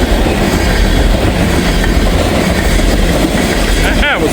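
Loud, close rumble and rolling clatter of freight train locomotives passing, steady throughout with a brief wheel squeal near the end and talk underneath.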